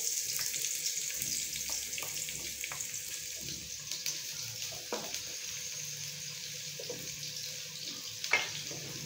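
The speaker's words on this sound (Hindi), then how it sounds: "अब हम लोग इसके अंदर डाल रहे हैं प्याज जो कि हम लोगों ने कट करके रख लिए थे।" Chopped onions frying in hot oil for a vegetable brinjal and potato curry, a steady broadband sizzle with faint scattered clicks and one louder knock near the end, no voices.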